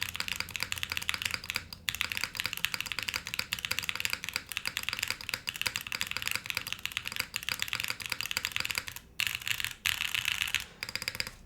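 Fast, continuous typing on a mechanical keyboard with Wuche switches and PBT keycaps, dense close clacking with a few brief pauses and no talking.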